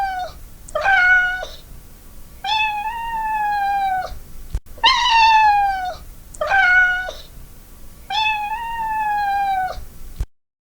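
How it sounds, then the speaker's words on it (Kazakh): A domestic cat meowing loudly and close, giving about six drawn-out, wavering meows separated by short pauses, with no other sounds around them. "Мысық."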